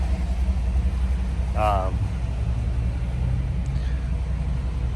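A 1995 Pontiac Firebird Trans Am coupe with its original, unmodified engine idles with a steady low rumble, while a brief spoken word sounds over it.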